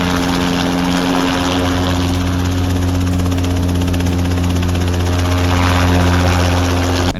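Steady, loud rotor and engine drone of a Skycraft Scout ultralight helicopter, a continuous throbbing hum with strong low tones holding unbroken throughout.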